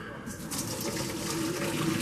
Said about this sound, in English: drain the hot water, hot boiling water